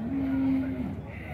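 A dairy cow at a cattle market in Dois Riachos, Alagoas, gives a single low, steady moo lasting under a second, close and clear over a busy market murmur.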